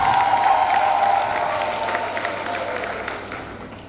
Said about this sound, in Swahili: Tuwapigie makofi masista, uongozi na wafanyakazi wote